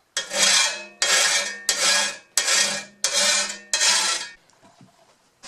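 A file rasps across a steel shovel blade in six even, rhythmic strokes about a second apart, each a bright gritty scrape, followed by quiet handling sounds.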